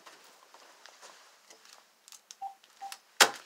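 A house phone is handled with scattered soft clicks and rustles, a few short keypad beeps, then a sharp louder clack near the end.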